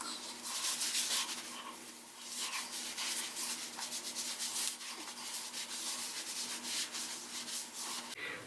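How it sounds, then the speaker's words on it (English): Hands rubbing ginger-infused vodka over bare skin, a steady close-up swishing friction that keeps going in uneven strokes with no talking. "So basically rubbing myself down with vodka"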